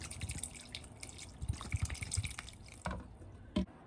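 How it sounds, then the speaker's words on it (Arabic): Milk poured into a dish for Om Ali dessert, soft liquid trickling with a few drips and light taps of the container, close and quiet, without speech. "هنحط اللبن بالشكل ده اهو كده"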